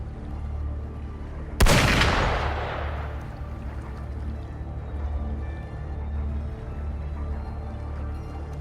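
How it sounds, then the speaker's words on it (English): A single sharp, loud gunshot-like blast in the video game Wuthering Waves cracks out and decays into a rumbling tail, over a low steady background hum. "Gunfire! We've got intruders."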